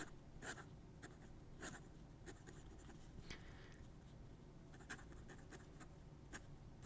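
A scratchy pen writes on paper in quiet, close strokes. Short scraping bursts come at irregular intervals over several seconds against a low, faint background.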